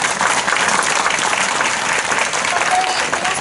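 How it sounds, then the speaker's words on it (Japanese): A crowd applauds loudly and continuously at the eve-of-tournament celebration of the Tenji Tenno Cup Hyakunin Isshu karuta competition in Asakura, a dense, sustained wash of clapping. "もう一度盛大な拍手をお願いいたします"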